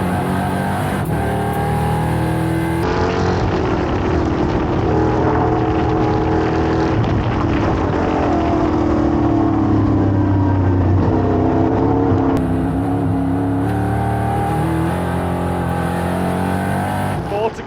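EuroNASCAR stock cars racing at Brands Hatch, loud continuous engine roar with rising and falling revs as cars pass and shift, dense and close throughout, with commentary underneath.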